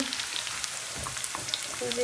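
Bay leaf, garlic, dried chilli and onion frying in hot oil for a tempering, a soft, steady crackling sizzle throughout, with faint background voices.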